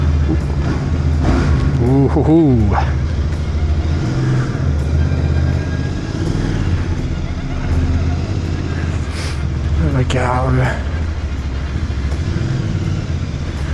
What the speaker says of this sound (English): listen to this beautiful exhaust